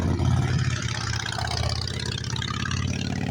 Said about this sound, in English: Now this motorcycle changes the harmonics pretty good.